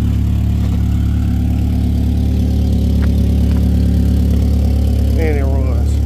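A junk derby car engine idles loudly up close with a steady deep rumble and whir, a person speaking briefly near the end over the running motor.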